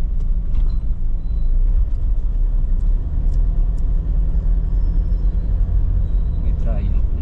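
Heavy road traffic on a busy shortcut route, with vehicles rumbling past in a continuous low roar and brief air-brake hisses, under near, steady conversation.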